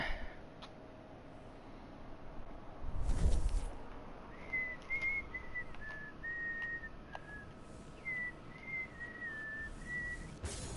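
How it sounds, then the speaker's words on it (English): A person whistles a wandering, thin tune while playing Destiny 2. The whistling is faint and runs for several seconds over low game ambience, with a dull thump near the start. "Excuse my awful whistling, y'all."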